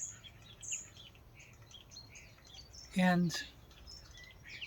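Birds chirp outdoors in short, faint tweets scattered through the clip, with a brief spoken word in the middle.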